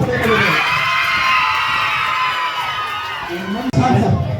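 Students at a school election count cheering and shouting as a loud, sustained crowd roar with whoops, briefly cut near the end before resuming.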